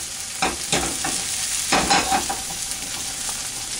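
Homemade hash browns fry in oil in a pan, a steady close sizzle broken by several scraping stirs and clatters of a utensil against the pan, with no voices.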